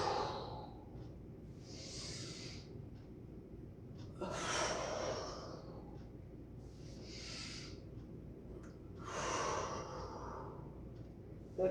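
Deep exhaling breaths during a seated spinal mobility exercise, heard as four slow, airy whooshes spaced evenly a few seconds apart, close and soft over a quiet room.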